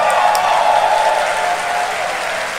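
An audience at Summer Game Fest breaks into steady applause, a dense wash of clapping from a large crowd that holds strong and then eases slightly toward the end, with no talking.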